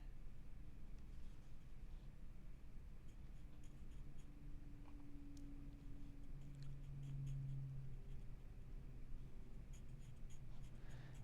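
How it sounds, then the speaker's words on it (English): Side of a graphite pencil dropping loose, staggered sketching marks across paper while drawing island trees; soft, steady scratchy strokes close up, with no talk. "I'm not using the tip of the pencil to render. I'm using the side of the pencil to suggest."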